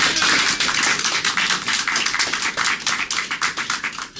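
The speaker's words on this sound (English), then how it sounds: "Let's have a round of applause." A stage hypnosis audience gives a practice round of applause, a dense burst of many hands clapping that stays strong and then thins into more separate, rhythmic claps toward the end.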